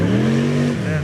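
A 1968–69 Chevron V8 racing car roars past at a classic car day, its loud engine note holding steady and then dropping in pitch as it goes by, with some crowd noise around it.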